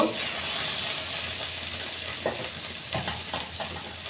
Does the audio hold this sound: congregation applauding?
no